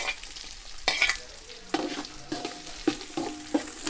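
Small shallots fry for a village-style rock fish curry with a soft sizzle. Several sharp spatula knocks and stirring strokes cut in at irregular intervals.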